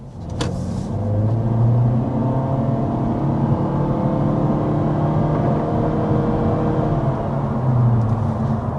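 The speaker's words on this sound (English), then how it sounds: "there's a good sample of the acceleration with this Civic hatchback Sport" A 2026 Honda Civic Sport hatchback under hard acceleration, heard from inside as a loud, continuous engine drone climbing through gear changes, with a brief click at the start.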